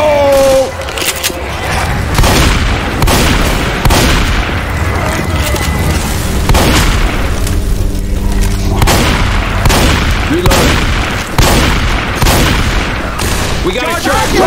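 Combat in a video game after a molotov is thrown: dense, loud booms and rapid gunfire bursts overlap continuously, with shouted voices mixed into the chaos.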